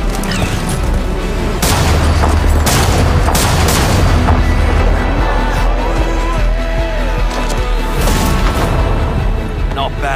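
Gunfire in an Apex Legends cinematic, loud and continuous with repeated sharp shots and booms over a rumbling, busy action soundtrack, with voices speaking now and then.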